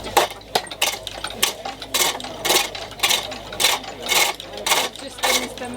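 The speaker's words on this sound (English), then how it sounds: "you're using the roughing gouge to rough it out" A springpole lathe turns a fresh wood billet while a roughing gouge cuts it, giving rhythmic scraping bursts about twice a second with faint clunks of the treadle and pole between strokes, close by.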